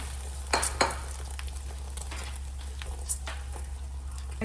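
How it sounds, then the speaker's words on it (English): Scrambled egg fries in a pan for an egg, ham and cheese sandwich, giving a steady close sizzle with a few brief scraping and clinking touches near the start. "to make scrambled egg. And we're going to fry it."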